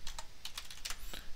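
Fast, light typing on a computer keyboard at a Windows PC, a quick irregular run of soft clicks and taps heard close and alone.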